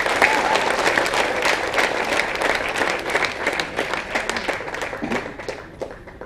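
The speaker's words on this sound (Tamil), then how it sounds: "ஒரு சிறப்பு கைத்தட்டல் வேணும்" Sustained applause from a crowd at a short film screening, dense and steady clapping that holds for several seconds before tapering slightly toward the end.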